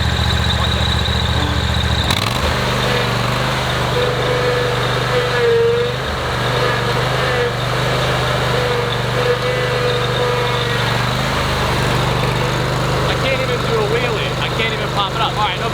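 A Toro Grand Stand MultiForce stand-on lawn mower engine runs nearby, starting with a sharp shift in tone and then holding a steady, loud idle-like drone throughout while people talk over it.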